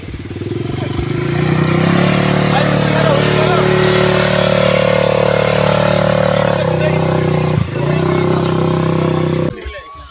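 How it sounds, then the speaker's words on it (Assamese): An ATV quad bike's engine runs steadily at the Kamatapur Festival on Nakkati Hill, a loud, close, droning idle with a brief dip near the end, while voices carry faintly underneath. "আৰু এইফালে আছে ATV"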